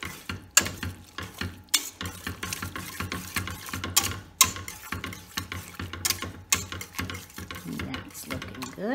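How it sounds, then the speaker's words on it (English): Mango strawberry jam with pectin being stirred in a pot, with a steady run of close scraping and knocking strokes and soft bubbling beneath, some strokes sharper and louder than others. "Continue to stir."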